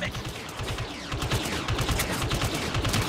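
Dense, continuous blaster fire from clone troopers attacking an MTT in Star Wars Battlefront 2, a steady rattling fusillade with a voice faintly underneath.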